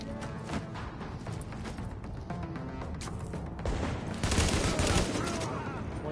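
Gunfire during a firefight in the video game The Division, bursts of sharp shots crackling over a busy battle mix, growing denser and louder toward the end, with a voice briefly heard.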